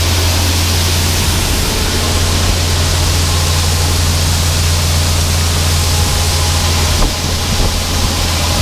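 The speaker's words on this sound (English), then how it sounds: "Little breezy right here." Strong wind blows outdoors beside a grain bin on a corn farm as a constant loud rushing roar with a low rumble beneath, alone without speech.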